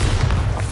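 A Bombarda blasting spell explosion in Hogwarts Legacy, a short, loud, thudding boom with dense low rumble filling the whole moment.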